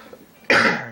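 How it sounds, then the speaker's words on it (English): One sudden, loud, close cough that breaks in after a quiet moment and fades over a fraction of a second. "Sorry about my coughing."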